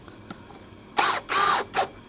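A DongCheng DCJZ2090i cordless impact drill fires in three short, loud mechanical bursts separated by brief pauses, close by and with no talking.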